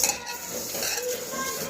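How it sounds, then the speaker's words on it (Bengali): Pulao rice with boiled potato being mixed by hand makes close, steady, soft squishing and rustling sounds. "এই যে এখন পোলাওটা মাখছি"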